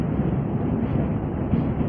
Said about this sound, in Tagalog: ang lakas ng hangin sa loob